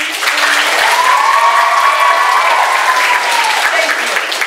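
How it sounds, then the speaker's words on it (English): Applause from a dinner-theatre audience at a madrigal dinner, a dense burst of clapping that stays loud and even throughout, with a whistling or cheering tone rising and falling over it. "Applause, please."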